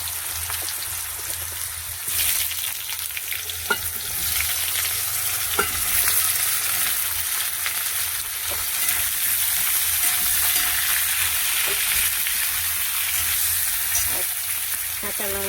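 Ridge gourd and potato sizzle steadily in hot oil seasoned with black cumin in a pan, a continuous close frying hiss with occasional sharp clicks and pops of spatter, no talking.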